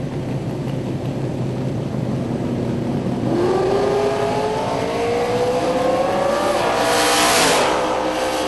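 Drag racing cars roar at the Yellow Bullet Nationals, engines loud and close as they rev and accelerate off the line, the pitch climbing steadily amid a dense, continuous roar.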